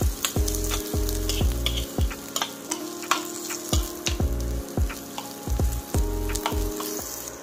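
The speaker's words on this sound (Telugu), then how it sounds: "సో ఇది కొంచెం బ్రౌన్ కలర్లో వచ్చేంత వరకు వేయించుకున్నాము." Onions frying in a pan for cabbage Manchurian: steady, close sizzling with repeated scraping and clinking of a spoon stirring against the pan at an uneven rhythm, with no talk.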